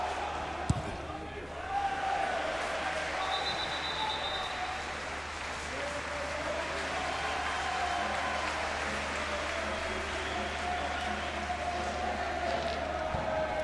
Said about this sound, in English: Great to hear supporters in the crowd without it coming out of a tin can.